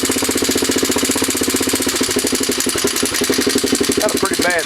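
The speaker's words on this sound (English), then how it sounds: "Got a pretty bad tick to it." Chinese 110cc ATV engine idling with a rapid, regular mechanical ticking from loose valves, close and loud, the steady chattering pulse continuing throughout while a voice briefly joins near the end.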